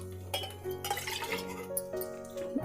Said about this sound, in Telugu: నీళ్ళు ఇంక 2 గ్లాస్ పోసుకోవాలి.